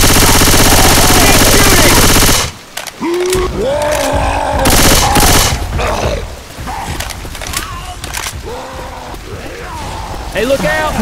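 Gunfire in Left 4 Dead 2 on Expert Realism, with loud sustained automatic fire at first, then scattered shots and bursts over several seconds while players talk over it.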